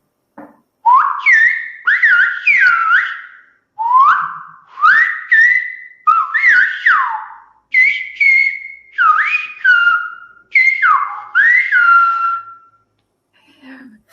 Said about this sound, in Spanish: hacemos pues con un saludo silbado